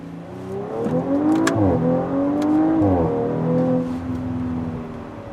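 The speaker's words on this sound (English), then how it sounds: "It'll actually downshift the red line for you" A 2018 Audi RS5 engine revs up and climbs toward redline, with rising and falling pitch sweeps as the gearbox downshifts, heard steadily and fairly loud from inside the car.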